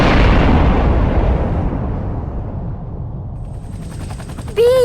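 An explosion in a video game blocks an underground passage: a loud blast that decays into a long rumbling roar and fades, with a short bright chime at the end.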